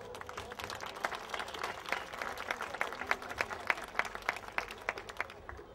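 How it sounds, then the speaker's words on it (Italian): Audience at a charity music evening applauds with steady, fairly distant clapping, individual claps standing out in a quick irregular rhythm throughout, with no talking over it. "facciamogli un altro applauso"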